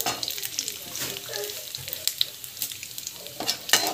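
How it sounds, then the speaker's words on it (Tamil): Chana dal, mustard seeds and cumin frying in hot oil: a close, bright sizzle with scattered crackles and popping, plus a few stirring scrapes over four seconds. "கடலைப்பருப்பு இது கொஞ்ச நாள் வந்து ஃப்ரை ஆகும்"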